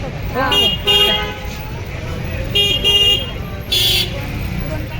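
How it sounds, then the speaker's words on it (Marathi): A parked car's lock chirps during a family trip near a temple in Jaipur region: three short bursts of electronic beeping, close and clear, over a steady low street hum. "गाडी लॉक केली"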